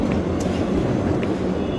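A train moves in the video game Doom 3, giving a loud, steady low rumble of a carriage in motion with faint rattles, and no other sound in the short stretch.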